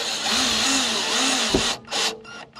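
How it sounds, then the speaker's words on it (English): A power driver tightens screws back down into an RV shelf, a steady close whirring hum that runs about two seconds, then cuts into a few short separate bursts. "Okay, so I'll tighten the screws back down."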